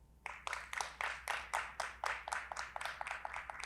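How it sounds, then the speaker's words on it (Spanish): Audience applause at an economic development and prosperity forum, a rhythmic burst of hand claps that repeat steadily in quick succession for a few seconds, fairly close and even in loudness. "para quien pido un aplauso"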